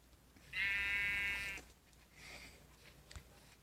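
A single sheep bleat in a desert survival video game, a clear, drawn-out tonal call of about a second, moderately loud, followed by faint background noise.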